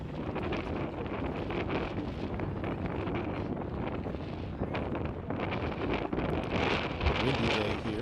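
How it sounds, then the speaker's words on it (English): Strong wind buffets the microphone at an outdoor softball game at Long Lake, a loud continuous rumbling roar that lasts the whole clip with brief gusty swells, and faint voices are mixed in beneath it. "Windy day here at Long Lake for Nevada"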